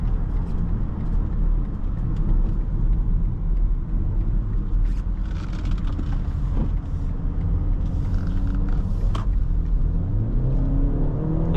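A 2024 BMW X1 xDrive28i M Sport SUV accelerates, heard from inside as a continuous loud low engine and road rumble with a rising tone near the end, no talk.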